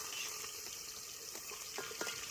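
Chili, curry leaves and onion frying in a pan, a steady bright sizzle with a few soft stirring scrapes, close and continuous.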